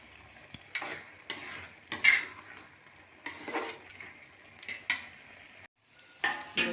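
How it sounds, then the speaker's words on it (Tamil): A spoon stirs food simmering uncovered on low heat in a pan, with bursts of scraping and clinking against the metal, a faint sizzle between strokes and a short pause near the end, with no talk. "கொஞ்சம் நேரம் அப்படியே திறந்து வச்சு சிம்மில் வச்சு கிளறுவோம்"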